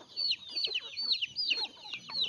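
Chickens clucking near and steady as they gather to eat food set out in a tray on a rural Isan farm, overlapping calls with sharp upward chirps, no talk.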